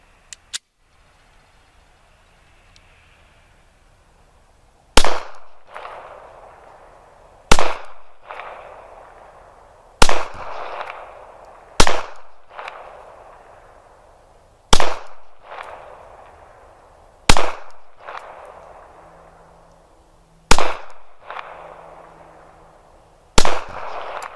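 A Glock 42 pistol fires flat point rounds from eight-round magazines: about ten loud, sharp shots at uneven intervals, each followed by a ringing decay, after a few seconds of near silence at the start and with no talking.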